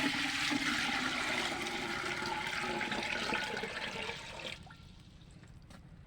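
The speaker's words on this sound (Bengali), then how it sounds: "এইখানে হাঁড়িতে আব্বুর জন্য গরম পানি দিতে হবে।" Hot water is poured into a cooking pot in a home kitchen, a steady loud rushing splash lasting about four seconds before fading to a faint trickle.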